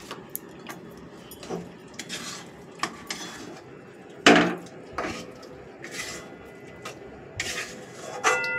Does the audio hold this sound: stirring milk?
yes